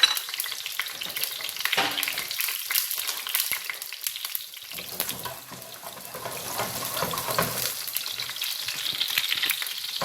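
Sliced garlic frying in about four tablespoons of oil while cooking koshari, a steady close sizzle and crackle that runs throughout, with faint stirring and no talking.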